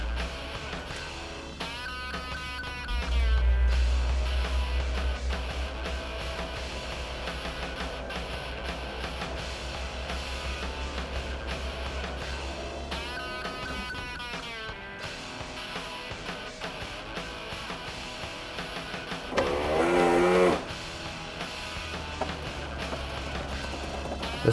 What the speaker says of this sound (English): It's like folding the top up now.